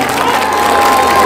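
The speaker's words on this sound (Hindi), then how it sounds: "तालियां बजाओ" Crowd applause and cheering from an audience at a Hindi kavi sammelan poetry recital in Suratganj, a steady dense roar of clapping with no pauses.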